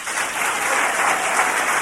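Applause sound effect played over radio broadcast, a dense steady patter of many hands clapping that holds evenly for a couple of seconds with no voices.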